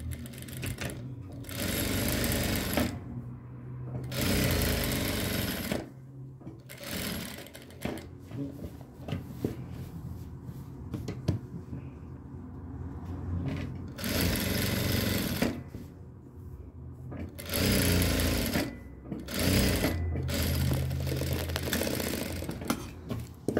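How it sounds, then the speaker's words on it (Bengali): A sewing machine stitches a kameez neckline in loud, close bursts of rapid mechanical whirring, stopping and restarting several times with short quiet gaps between runs. "ফিজিং এর নিচে দিয়ে সেলাই দিবেন, ফিজিং এর উপরে যেন না হয়।"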